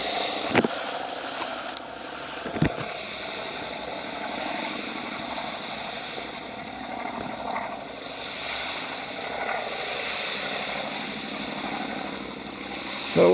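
A steady, droning engine hum of a luxury yacht in the video game Off The Road, heard from the bridge, running continuously with a couple of faint knocks and no talk.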